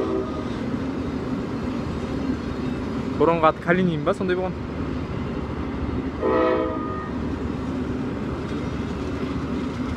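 A passenger train with Tver-built carriages assembled in Astana, including a 40-seat coupe car, departs on the Turkistan–Almaty line. A steady rolling rumble carries two short horn-like tonal bursts, and someone talks over it.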